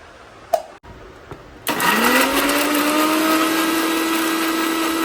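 A kitchen blender purées chopped tomatoes into paste: a few brief knocks, then the motor whirs up sharply and holds a loud, steady high drone to the end.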